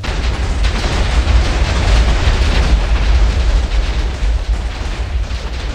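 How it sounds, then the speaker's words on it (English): TNT detonating in Minecraft, a loud, sustained rumbling blast with crackling debris that fills the whole moment and tapers slightly at the end, with no talking. "Every time I detonate TNT, I'm gonna make one of these"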